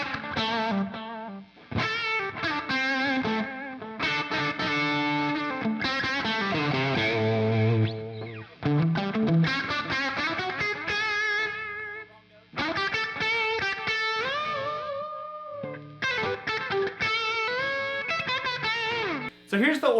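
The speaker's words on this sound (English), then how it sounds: "Now with some delay on here, this thing sounds really, really good, especially with the P90s" Electric guitar with P90 pickups played through a Marshall Origin amp with delay, continuous chordal and lead phrases ringing with echo trails, loud and alone with brief gaps.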